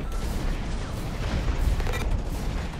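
A rocket turret firing in Hawken: a continuous barrage of booming, rumbling blasts and rapid firing, loud and sustained over the whole stretch, with no voices.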